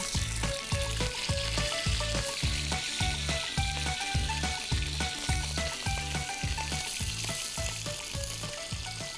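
Tulingan fish frying in oil in a pan gives a loud, continuous hiss and crackle, with a regular pulsing pattern running beneath it throughout.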